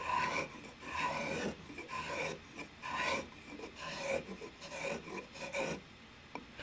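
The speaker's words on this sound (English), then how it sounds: "we'll do that with spoke shaves and chisel" Lee Nielsen spokeshave shaving a wooden coffee mug, a steady series of rasping strokes, roughly one every second, close and dry with a slightly scratchy wood texture.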